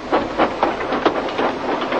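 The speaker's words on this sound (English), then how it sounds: "almost before the coaches had stopped moving, Gordon reversed quickly and was coupled to the train" A simulated train in the Trainz simulator rolls along the rails with a loud, rhythmic clickety-clack. Regular wheel beats repeat several times a second over a light hiss, with no voices.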